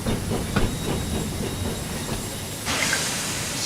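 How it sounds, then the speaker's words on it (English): A steam train runs steadily in the Thomas and Friends: Wonders of Sodor video game, with a constant rumbling hiss, faint rhythmic clatter, and a brighter hissing surge near the end, with no talk. "So with the train going so fast, it's really a little bit difficult to control the speed"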